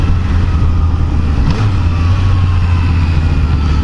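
Yamaha MT-09 motorcycle engine revs briefly at close range, its steady low rumble rising in a short surge at about the middle of the clip, then settling back amid constant wind and road noise.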